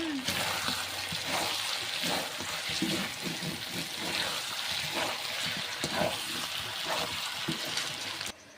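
Mutton being fried down in oil in a wok for kosha, a steady crackling sizzle with scraping stirs throughout, close and fairly quiet, while someone talks over it.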